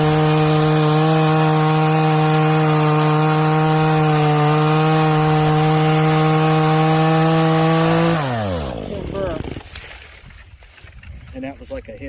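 A chainsaw cuts down a thorny tree, its engine droning loud and steady at high revs, then dropping in pitch and winding down to idle near the end amid rustling.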